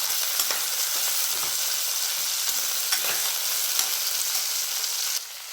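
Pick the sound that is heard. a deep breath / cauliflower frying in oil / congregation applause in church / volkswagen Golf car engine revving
cauliflower frying in oil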